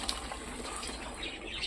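Boiled Malabar spinach water being poured off from a pan, a steady close splashing gush of liquid that runs continuously without pause for under two seconds.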